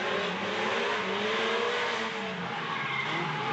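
Drift cars powering through a turn at Orange Show Speedway, a continuous roar of revving engines and squealing, skidding tires, loud and sustained throughout, no talk.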